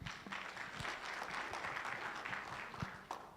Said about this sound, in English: Let's give an applause for the school choir.